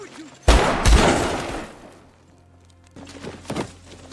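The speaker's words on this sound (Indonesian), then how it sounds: "mereka berdua pun melepaskan tembakannya masing-masing" Two sharp, loud gunshot blasts ring out close together in a dramatic film scene, each followed by a decaying rumble, then quieter movement and a few faint knocks trail off.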